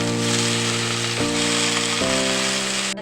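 Washed fenugreek leaves hit hot oil, producing a loud, steady sizzle over a low electric hum that steps up in pitch twice, then cuts off sharply at the end.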